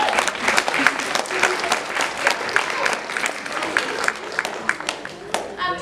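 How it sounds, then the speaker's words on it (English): An audience at a school play applauds the Washington Forest Foundation, with lively, dense clapping and scattered louder individual claps. Crowd murmur mixes in as the applause fades near the end. "Can we give them a round of applause,"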